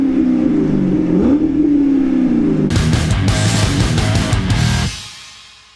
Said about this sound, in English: Let's give this thing some revs.